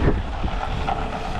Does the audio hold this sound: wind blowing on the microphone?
yes